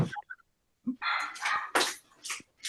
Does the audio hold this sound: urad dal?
no